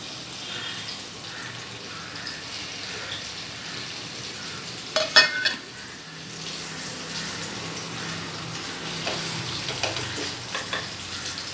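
Onions frying in a pan over a medium flame, a faint steady sizzle with a brief clatter of stirring midway and light scraping near the end.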